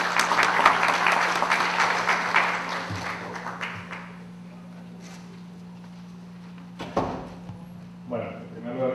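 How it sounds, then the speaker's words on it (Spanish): An audience at an arbitration lecture applauds to welcome a speaker, with dense clapping loud at first and then thinning and fading out over a few seconds, leaving a steady hum and a few scattered knocks. "Recibamos con un fuerte aplauso al doctor Miguel Santa Cruz Vital"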